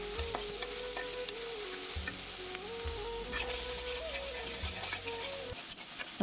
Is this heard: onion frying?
yes